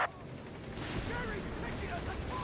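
Recon artillery shells land in a Company of Heroes 3 tournament match, a sharp blast opening into sustained rumbling, crackling fire, with a commentator's voice running over the top.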